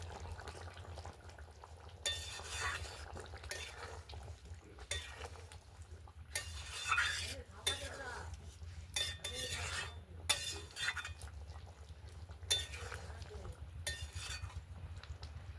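A spoon stirs katla fish mince curry with beans and potatoes in a cooking pot, giving repeated bursts of scraping and clinking. Between the strokes a low, quiet background hum continues, with no talking.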